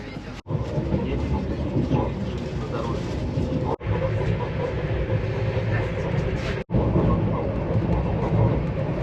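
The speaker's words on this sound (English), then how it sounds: "First experience of a Russian train." A passenger train from St. Petersburg, Russia, rumbles and clatters steadily from inside the carriage, loud and continuous, with murmuring voices underneath and a couple of abrupt cuts.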